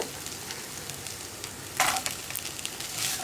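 Grated coconut and green beans fry in a pan for a Kerala beans thoran, giving a steady soft sizzle with a brief louder crackle partway through and no talking.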